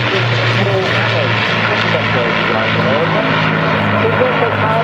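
Steady drone of an Avro Lancaster bomber's piston engines and propellers passing at an airshow, continuous and fairly loud, with someone talking over it throughout.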